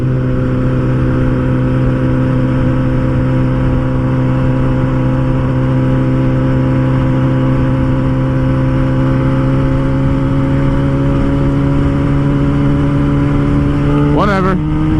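Steady drone of a vehicle engine with a truck passing on a highway, a rising whine sweeping up near the end as it goes by; voices talk over the road noise.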